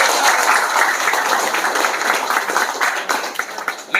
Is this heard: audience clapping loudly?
yes